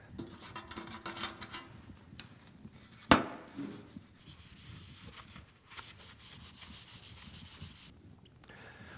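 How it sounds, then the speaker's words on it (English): A power sander fitted with 80 grit sandpaper works over fiberglass panels, a soft continuous rubbing hiss interrupted by one sharp knock and brief pauses, with no talking. "I'm going to be using my sander just to make things go a little quicker and some 80 grit sandpaper"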